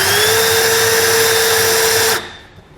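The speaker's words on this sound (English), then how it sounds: "take a small bit, make a pilot hole. It'll make it a lot easier to drive this one through that metal" Power drill boring a small pilot hole up through the steel bed of a 2019 Ford F-350 Super Duty pickup, a loud, close, steady whine that stops abruptly near the end.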